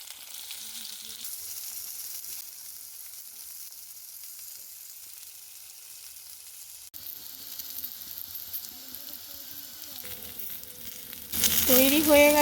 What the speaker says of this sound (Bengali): এবার আমি ভেন্ডিটাকে ভেজে নেব।